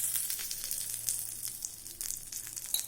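Mustard seeds, urad dal and curry leaves sizzle in hot oil, a bright crackling hiss dotted with quick sputtering pops, close, moderately loud and uneven, with no speech.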